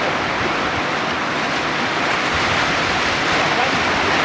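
Steady roar of river water on the Oka Sayanskaya during a rafting descent, waves slapping against the raft, loud and continuous throughout with no clear pauses.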